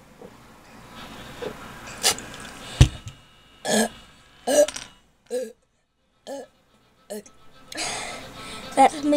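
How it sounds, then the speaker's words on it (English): A person burps several times in short, separate bursts, with quiet pauses between them, close to the microphone and loud. "That's me burping."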